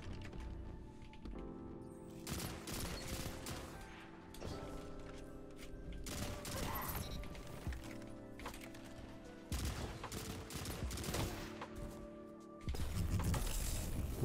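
Pulse rifle fired from the hip in mid-air in Destiny 2, short rapid bursts of gunfire in repeated clusters, loud and close, with mechanical clicks between volleys.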